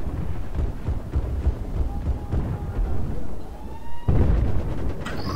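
A deep, rumbling bomb blast in the video game Battlefield 4 on the Golmud Railway map during an Obliteration match rolls out under continuous booming battle noise, with a sharper low thump near the end.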